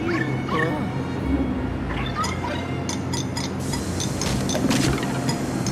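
A dog in the video game Luigi's Mansion 3 whimpers and yips in a quick, high series over a dense, noisy game soundtrack.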